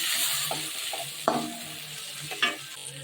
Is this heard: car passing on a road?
no